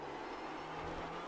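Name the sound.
Clio Cup car engine at full throttle, iRacing video game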